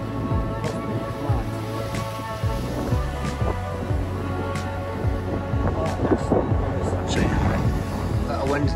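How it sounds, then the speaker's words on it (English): Strong wind on the coast at Torrevieja, Spain, buffets the microphone with a constant low rumble and roar, gusting throughout, with a voice faintly audible beneath the blustery noise. "it's really windy today"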